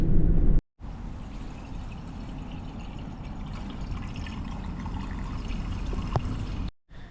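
Fuel pours from a can into the tank of a broken-down Ford Transit van, a steady gurgling stream at close range lasting several seconds between short gaps, with no speech.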